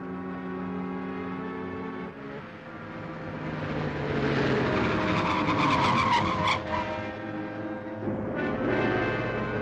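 A car chased down a highway in a 1952 film, its engine droning and whining with squealing tires through the middle, a loud continuous motor noise with a horn-like tone at the start.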